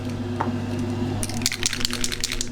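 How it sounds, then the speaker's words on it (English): An electric fan hums steadily and close by while short hissing bursts from an aerosol spray can cut in during the second half, coating a Spitfire scale model. "I have to put on the fan, so excuse the noise."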